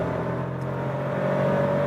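A turbocharged Volkswagen Polo R-Line engine pulls in third gear from about 70 to 100, a steady rising drone heard from inside the car, fairly even over the short stretch.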